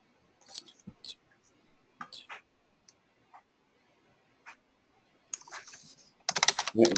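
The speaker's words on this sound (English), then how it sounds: "Hey Mark, you're kind of typing loudly." Scattered bursts of typing on a computer keyboard, faint clicks in short irregular clusters with pauses, ending in a louder clattering burst.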